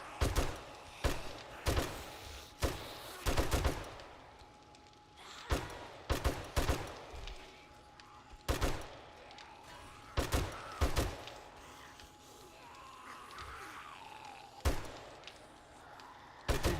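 Gunshots in the zombie survival game 7 Days to Die, set in a burnt biome: sharp single shots fired in uneven bursts across the stretch, loud against a quiet background, with pauses between groups.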